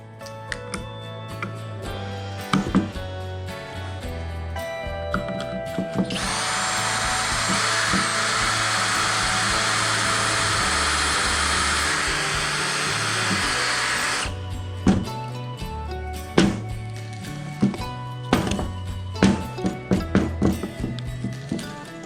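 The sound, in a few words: drilling pocket holes with power drill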